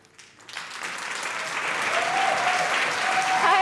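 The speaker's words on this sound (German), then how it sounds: "Dein Applaus." Audience applause at a song contest finale swells from near silence into a broad, steady roar of clapping that builds in loudness toward the end, with faint voices in the crowd.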